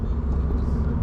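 A 2023 Subaru BRZ on the move, heard as a steady low rumble of road and engine noise from inside the cabin with nothing else over it.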